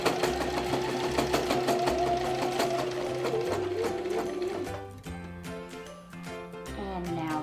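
A sewing machine runs fast, stitching down the tie of a fabric face mask, with a rapid even whir broken by brief pauses and restarts.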